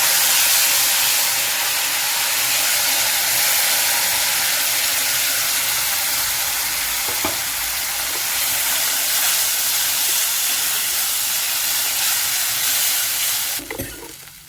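Dal hits a hot cumin and mustard seed tempering with chilli powder in a pan, giving a loud, continuous close sizzle and hiss that holds steady for several seconds, with a few clinks and stirring knocks near the end.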